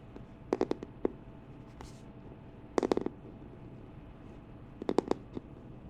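Fingers tapping on a glasses case for ASMR, quiet clusters of quick light taps in three short bursts separated by pauses, close and soft over a faint background hiss.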